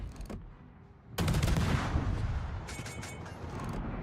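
Heavy ship guns fire in the video game World of Warships. A short blast comes first, then after a quiet gap a loud booming salvo rolls on, followed by further rumbling shots.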